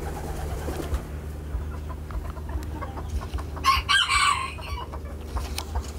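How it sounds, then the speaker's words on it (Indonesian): Chickens cluck softly in the background, then a rooster crows loudly and close by for a couple of seconds before the clucking resumes. "Ini ayam-ayam saya banyak loh."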